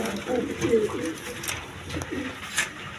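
Caged pigeons at a market stall coo in low repeated warbles close at hand, with a voice talking over them and a few sharp clicks scattered through.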